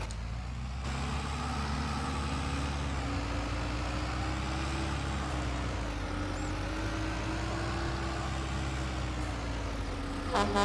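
A tractor engine in a farming video game runs in a steady, close, droning idle for the whole stretch, with a brief clatter near the end.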